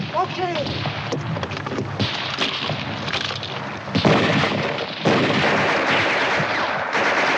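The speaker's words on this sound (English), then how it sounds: "Hurry up with that mortar!" Mortar and artillery fire in a 1951 war film, heavy booming blasts and rumbling gunfire filling the whole passage, loud and continuous with a sharp impact near the middle.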